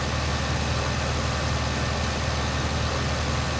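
A tractor engine in the farming video game Farming Simulator 15 runs with a steady, unbroken mechanical drone, loud and constant throughout, with no talk over it.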